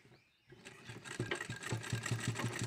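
Sewing machine stitching fabric for a small popcorn pouch, starting after a brief pause and then running in a steady, rapid, rhythmic chatter close up, fairly quiet overall.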